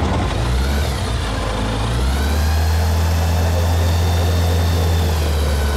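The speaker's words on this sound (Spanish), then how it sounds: "Bueno, pues nada, arrancamos el motor." An autogyro's engine running at steady full power, a loud continuous propeller drone with a deep hum close by and no voices over it.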